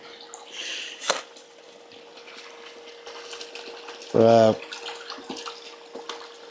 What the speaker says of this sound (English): flip it over, pour some water on it